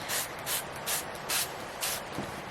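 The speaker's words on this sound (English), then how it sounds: "I'm just going to spray this with water" A spray bottle mists water onto yellow and green watercolour paint in five quick, hissing bursts at an even rhythm, close by and fairly quiet.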